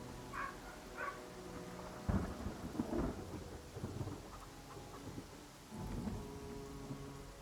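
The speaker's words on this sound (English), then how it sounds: "So, it's still raining terribly." Steady rain hisses throughout while low rumbles of thunder roll in and swell at moments, with no voices over the storm, in the video game Pathfinder: Kingmaker.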